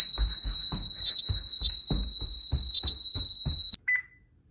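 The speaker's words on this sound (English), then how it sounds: "The alarm. Oh my gosh." A home security alarm beeps steadily with a loud, piercing tone under excited talking, then cuts off abruptly, followed by one short beep.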